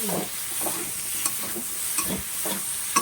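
Prawns cooking in a pan are stirred to keep them from sticking, giving a close steady sizzle broken by several quick scraping strokes of a spatula.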